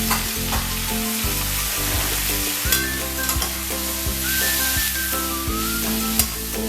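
Vegetables with turmeric and Kashmiri chilli powder fry in a pan for chilli cauliflower, a loud steady sizzle broken by regular thumping, scraping stirring strokes about once a second.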